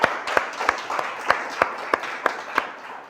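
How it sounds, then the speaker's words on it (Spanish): A congregation at a church service claps together, giving about nine or ten sharp, fairly evenly spaced claps at moderate volume in a roomy space. "el que lo cree, dice amén y le da un aplauso al Señor."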